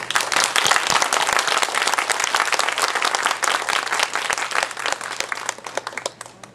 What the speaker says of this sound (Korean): 우리 부산동 주민 여러분께 존경의 박수를 보냅니다.